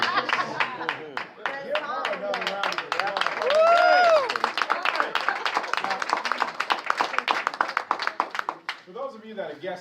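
Audience in a room applauding a guest at a Hyde Park briefing presentation, a long run of steady clapping with cheers and whoops rising midway, people talking over it before it fades.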